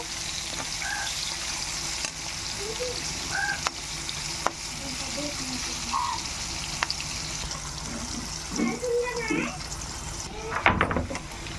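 Onions frying in reused oil for a crab fry, a continuous close sizzle with scattered pops and stirring scrapes, while a voice speaks intermittently over it.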